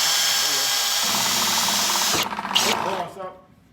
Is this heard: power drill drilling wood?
yes